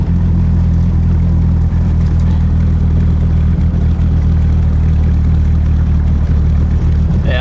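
A Rover 3.5 V8 engine in a Cobra replica cruising in fifth gear, giving a steady, loud low-pitched drone and rumble from inside the car with no change in pace.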